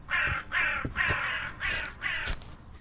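Black birds caw on a farm in the horror game We Harvest Shadows, five harsh, raspy crow calls in an even rhythm, loud and near, with no talking over them.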